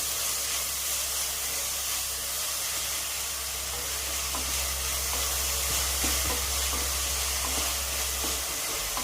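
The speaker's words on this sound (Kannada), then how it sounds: "ಈಗ ಕರಿಬೇವು, ಹಸಿಮೆಣಸಿನ್ಕಾಯಿ ಹಾಕಿ ಫ್ರೈ ಮಾಡಬೇಕು." Curry leaves and green chillies fry in hot oil for a home-style egg palya (egg burji), giving a steady, close sizzle and hiss that runs evenly throughout with no voices.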